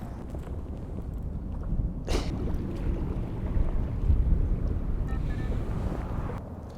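Strong winter wind buffets the microphone at a carp fishing lake, a loud, continuous rumbling roar with gusting swells and a brief rustling burst midway.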